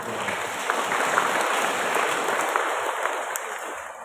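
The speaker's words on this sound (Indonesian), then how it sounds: "Kita tepuk tangan dulu." Applause at a parish Eucharist celebration for a student mission event, a soft, even wash of clapping heard from some distance, with a steady high hum running underneath.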